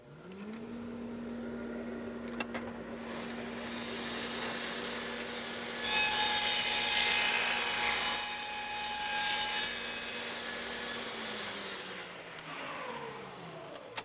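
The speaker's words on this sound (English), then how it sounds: "Here's the answer, the Shopsmith dust collector. It plugs right into the Mark V, eliminates all the dust and debris from the air." Shopsmith Mark V woodworking machine cutting wood with its dust collector attached, a steady motor drone with a louder, brighter cutting whine in the middle, heard alone and close.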